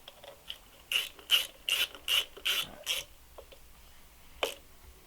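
A ratchet wrench tightening stator bolts on a GY6 scooter engine: six or seven crisp clicking bursts in quick rhythm, close and moderately loud, followed by a pause and one last click.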